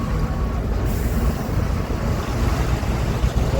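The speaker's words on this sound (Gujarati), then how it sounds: "હે પવન છે જોરદાર ભાઈ" Strong storm wind roars in a dense, continuous rush that gusts slightly but never lets up, close and loud against the microphone.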